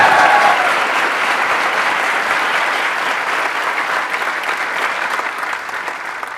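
Sustained, dense clapping from a large audience at a live talk session, steady and loud throughout with only a slight easing toward the end.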